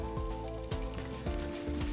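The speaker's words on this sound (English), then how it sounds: "I'm just using a little bit of Nuttalex, just on the pan, and all you do is just sizzle it on" Nuttelex margarine sizzles and crackles steadily in a hot frying pan, close and continuous, with faint repeated thumps and a low tonal hum underneath.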